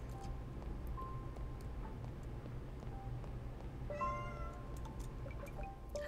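A cat meows a few times in the video game Dead & Breakfast, faint and short over a low hum of quiet game ambience, with small game tones around it.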